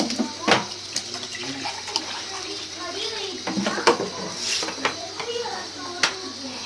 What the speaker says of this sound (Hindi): मैं डाल रही हूँ इसमें 3 गिलास पानी।